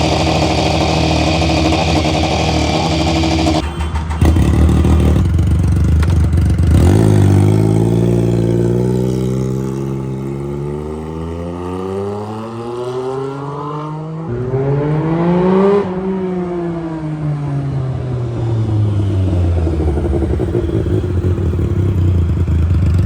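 A motorcycle engine running on only three cylinders runs loudly nearby, sputtering unevenly and then revving up and down in several rising and falling sweeps.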